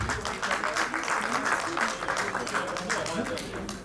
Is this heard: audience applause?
yes